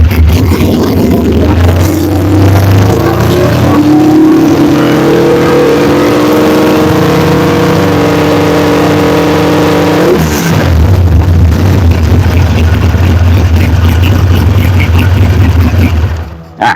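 Engine of a car with a charging fault revved hard during a charging-system check, a loud steady roar rising in pitch and holding, then dropping back to idle near the end, with no talk.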